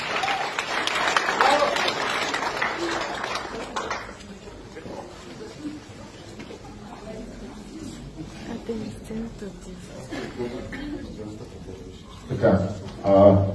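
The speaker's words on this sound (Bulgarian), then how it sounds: "Аплодисменти за всички вас." Audience applause at a stage event, a dense burst of clapping for the first four seconds, then fading into murmuring and a few scattered claps, with a short flare of clapping near the end.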